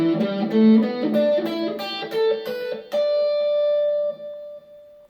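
A guitar plays a pentatonic scale shape note by note in a quick run through a chorus-like effect, ending on a held note that rings for over a second, clear and close with no talking.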